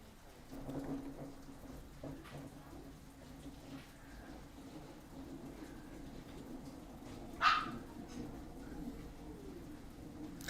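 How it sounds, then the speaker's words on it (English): Dogs frightened by lightning bark faintly in the distance during a storm in Radcliffe, Kentucky, with one sharper yelp standing out over steady rain-like background noise and no talking. "if you hear the dogs in the background"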